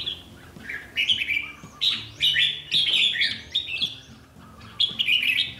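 A Gia Lai songbird chirps close and clear in repeated bright, rapid bursts of high twittering, separated by brief pauses, over faint background noise.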